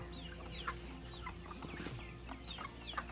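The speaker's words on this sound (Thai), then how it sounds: "นี่ฝั่งนี้เป็นข้อแม่พ่อแม่พันธุ์นะครับนี่อันนี้เป็นไก่รุ่นครับ" Several purebred laying hens, breeder birds and young stock, cluck and squawk continuously on a poultry farm, with a steady background hum, a busy coop at moderate distance.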